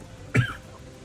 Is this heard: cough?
yes